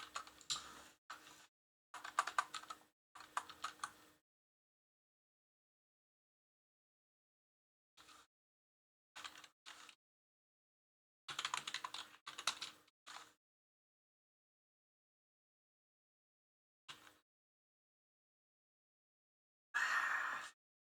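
Keyboard typing in short separate bursts of rapid clicking keystrokes, fairly close, with long silent pauses between the flurries and no talk.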